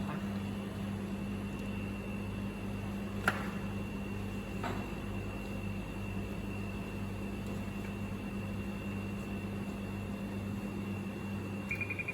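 A steady laboratory centrifuge hum and whir drones on evenly throughout while spinning red blood cell samples, with a couple of sharp clicks and a faint high tone near the end.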